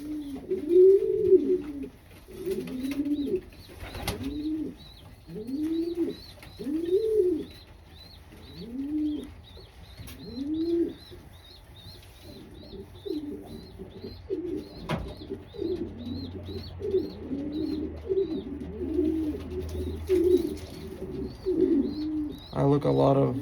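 A racing pigeon coos close by in a steady run of soft, rolling calls repeated every second or so. Faint chirps sit in the background, and low talk joins midway.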